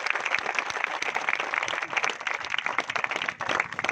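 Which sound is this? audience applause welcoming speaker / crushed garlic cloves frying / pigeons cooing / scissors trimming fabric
audience applause welcoming speaker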